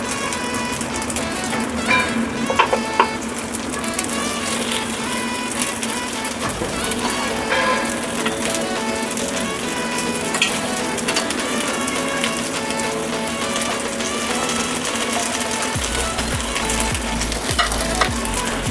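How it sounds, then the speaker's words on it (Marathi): Dough balls shallow frying in ghee in a pan give a steady, close sizzle throughout, with occasional light clinks and stirring scrapes on top. "तूप लावल्यानंतर मी हे बॉल्स एक ह्याच्यामध्ये सोडते आहे."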